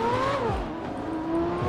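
Suzuki Jimny engine in GTA 5 roleplay, a game car revving with pitch climbing then dropping as gears shift, steady mid-level engine drone with no voices.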